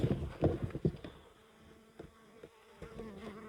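A steady hum of many honeybees buzzing close by in a hive crowded between frames, with some louder rustling and bumps early on before it settles into a low drone.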